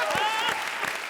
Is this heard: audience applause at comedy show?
yes